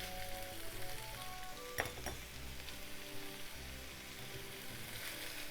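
Bean sprouts and pork stir-frying in a pan, with a continuous sizzle and crackle, a sharp clatter of the spatula partway through, and steady tossing and stirring noise.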